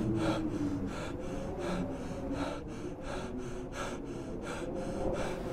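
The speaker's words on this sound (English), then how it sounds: "Why is he panting so much?" A video game character panting heavily, a steady rhythm of about a dozen loud rasping breaths, each in-and-out gasp evenly spaced, close and continuous over a droning background.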